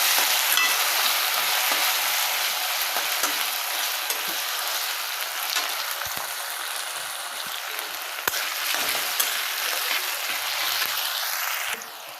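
Thinly sliced potatoes fry in oil for kande pohe, a steady, close sizzle with the occasional scrape and tap of stirring, loud and continuous with no talking.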